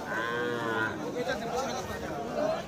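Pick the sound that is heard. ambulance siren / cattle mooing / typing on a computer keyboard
cattle mooing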